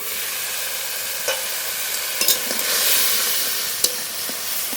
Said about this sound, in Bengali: আর একটু নেড়ে নেড়ে খুব ভালো করে ভেজে নেব